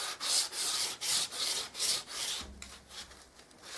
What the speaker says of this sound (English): Now I can just sand it back.